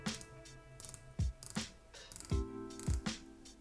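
A titanium bezel on a Zelos Swordfish 40mm dive watch is turned in a few short bursts of crisp clicks, close and fairly quiet, with soft handling thumps between the turns.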